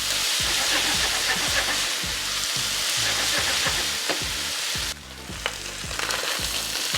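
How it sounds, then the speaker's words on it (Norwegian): Ground beef fries and browns in a pan with a loud, steady sizzle that runs throughout, dipping briefly near the end, while low tonal music plays underneath. "ser det ut som vi begynner å få litt stekeskorpe på kjøttdeigen"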